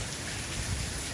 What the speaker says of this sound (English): We've had at least a foot of rain,